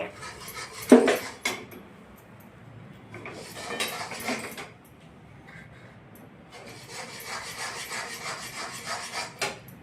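A ragi (finger millet) laddu mixture being pressed and crushed in a pan with the base of a small bowl, scraping and rubbing bursts in three separate spells with quiet gaps between, near and moderately loud, no talk.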